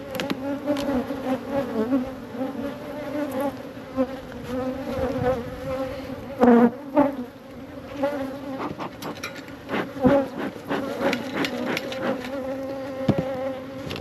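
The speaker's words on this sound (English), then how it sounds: "Definitely a lot of bees all up here in the top" A dense, steady drone of many honey bees buzzing close by, with individual bees zipping past and occasional light knocks.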